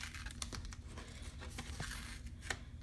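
Peel and stick laminate being peeled up from a tumbler, with faint close crinkling and small tearing crackles in short irregular bursts.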